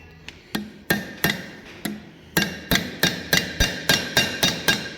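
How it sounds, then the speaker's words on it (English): A smaller hammer strikes copper while the back of an Egyptian-style dagger is being formed, giving sharp metallic blows, sparse at first and then a quick, even series of a dozen ringing hits close up. "Using a smaller hammer too."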